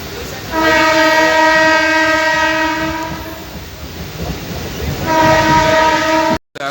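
A train sounds its horn at Halisahar station: two long, loud, steady blasts close by over a constant rumble of the train, the second blast briefly cut off at the end.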